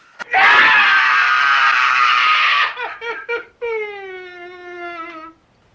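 A loud, sustained scream from the horror film Maniac holds for over two seconds, then breaks into shorter gasping cries and a long falling wail that fades out.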